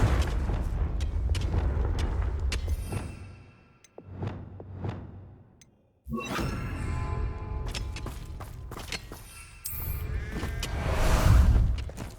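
Confringo blasting spell explosions in the video game Hogwarts Legacy, heavy booming blasts and rumbling debris with a sharp cut partway through, loud and close over game ambience.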